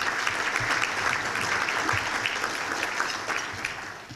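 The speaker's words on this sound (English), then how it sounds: "Let's have a round of applause for all of them." A breakfast audience at a business chamber event applauds steadily; the clapping is dense and even, holding at a constant level for about four seconds before easing slightly at the end.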